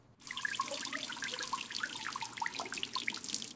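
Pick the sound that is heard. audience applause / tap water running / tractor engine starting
tap water running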